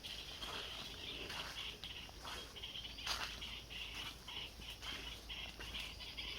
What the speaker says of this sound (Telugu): బాగా అరుస్తున్నాయి పక్షులు కూడా.